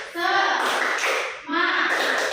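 A classroom of pupils performs the rhythmic 'tepuk semangat' clapping chant, with loud group claps in a patterned beat and children's voices chanting along, led by a teacher.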